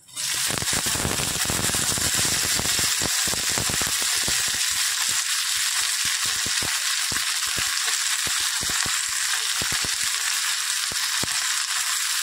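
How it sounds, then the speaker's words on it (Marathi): Cleaned, snapped guar beans drop into hot oil with a sudden loud burst of crackling and popping that settles into a dense, even sizzle, close and steady with no talking. "तेलामध्ये गरम झाल्यानंतर ह्यामध्ये आपण टाकणार आहोत ही जी गवार स्वच्छ धुवून मोडून शेरा काढून स्वच्छ धुवून घेतलेली गवार आहे ती ह्यामध्ये टाकणार आहोत"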